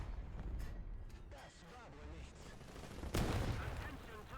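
A tank cannon fires in a video game as one heavy, booming blast. It lands under ongoing engine rumble and battle noise, while players talk over the scene.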